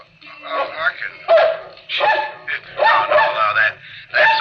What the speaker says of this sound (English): You bark as much as you want.